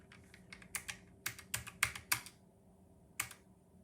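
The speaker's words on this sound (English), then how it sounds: "Let's do some typing tests." Keys clack on a Keychron K1 mechanical keyboard over a Bluetooth connection, a close, quiet burst of irregular taps, then a pause and one final keystroke.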